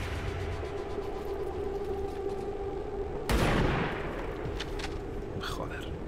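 Reaction-fire gunshots in the video game XCOM 2 sound as one sharp blast partway through, set against a constant low game soundscape with faint chirps trailing after it.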